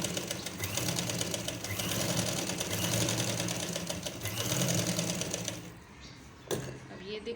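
A sewing machine stitching lace onto the edge of a dupatta, running in a steady close whir with quick rhythmic needle ticking, pausing briefly near the end, while someone talks over it.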